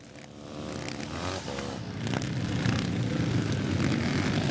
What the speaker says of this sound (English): So let's take a quick look at Andy Roberton putting the Rickman G50 through its paces at Tinto Moto Park in 2014.